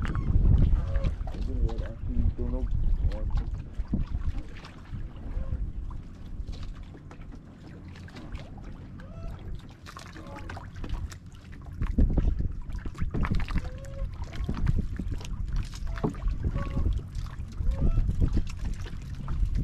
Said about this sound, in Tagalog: Laki na naman yung alon.